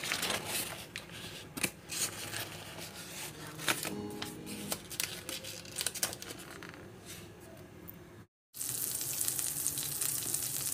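Butter sizzles in a hot pan as vegetables are sautéed, a steady close crackle with scraping and crinkling handling noises, broken by a brief gap of silence before a brighter, denser hiss resumes.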